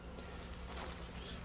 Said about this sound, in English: Because there's a lot of bees around